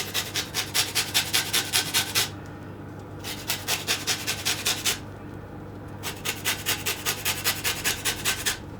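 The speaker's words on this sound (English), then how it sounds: "I'm just going to grate a little bit more lemon zest over the top." Lemon zest grated over the top of a lemon blueberry cake, three bursts of quick, rhythmic rasping strokes separated by short pauses, close and fairly loud with no talking.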